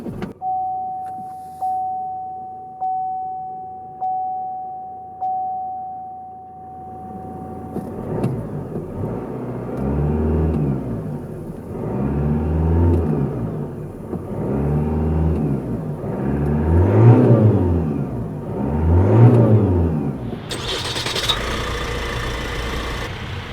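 A 2018 Chevrolet Equinox diesel engine cranks and starts, then idles with a steady clatter. It revs in several rising and falling swells before settling back, heard close and loud with no talking.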